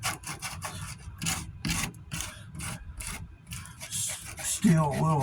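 Coarse 40-grit sanding of soft body filler on the door of a 1988 Ford F-250, heard as rhythmic rasping strokes close up, with a voice talking toward the end.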